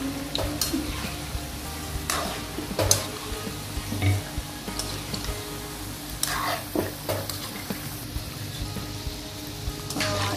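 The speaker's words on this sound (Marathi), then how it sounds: "तळून काढायचे।" Shankarpali, a sweet Maharashtrian snack, frying in hot oil over medium gas, giving a steady close sizzle with bubbling crackle and occasional stirring clicks throughout.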